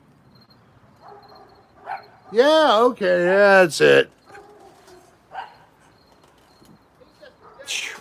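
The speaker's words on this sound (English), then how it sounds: "That dog has rabies." A dog gives a few loud, close, drawn-out barks and yips, with brief vocal sounds and quieter gaps around them, while a person speaks a few words.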